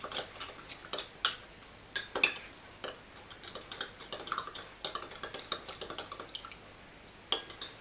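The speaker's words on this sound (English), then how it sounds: "put 1 teaspoon of flour, 1 teaspoon of sugar, mix it a little bit" Spoon stirring a teaspoon each of flour and sugar into chamomile tea, with scattered light clinks and taps against the cup in an irregular rhythm, close and fairly quiet, no talking.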